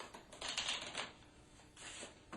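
Playing cards being riffle shuffled, quick soft fluttering bursts of card edges, faint and close, in short repeated flurries.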